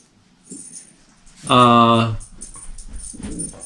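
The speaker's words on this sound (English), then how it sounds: "this dog's gonna go nuts because its ball's behind the couch" A dog, restless over a ball stuck behind a couch, lets out one loud, drawn-out whine of about half a second between softer snuffling noises and faint indoor sounds.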